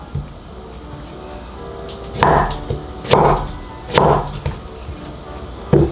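A knife slicing carrots on a wooden board, cutting into the vegetable with about five crisp, knocking chops spaced roughly a second apart, close and clear over a quiet kitchen background.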